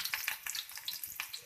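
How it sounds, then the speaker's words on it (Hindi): Whole red chilies and garlic cloves sizzling in hot oil for a dal tadka, a brief close crackle of frying with fine spattering pops, fairly quiet and with no talking. "3 टेबल स्पून हमने ऑयल गरम किया, इसके अंदर हमने डाल दी 3 साबुत मिर्चें हैं लाल वाली और 4 से 5 जो हैं लहसुन के जवे हैं।"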